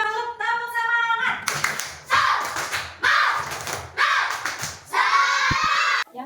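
A classroom group performs a rhythmic spirit clap, bursts of loud, close hand claps in a patterned rhythm, mixed with children's chanting voices and some thumps.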